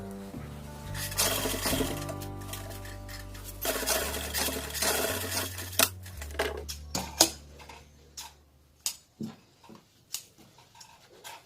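A sewing machine stitches pajama fabric near the elastic waistband in a continuous run at first, then slows into scattered short bursts and ticks toward the end.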